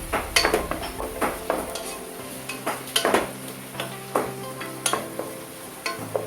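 Onions sauté in a pan for spicy pepper chicken, with a steady sizzle under repeated clinks and scrapes of a spoon stirring against the metal, close and fairly quiet.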